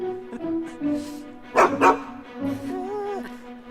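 A dog gives a couple of sharp, close barks amid whining and a person's voice speaking over a steady tone.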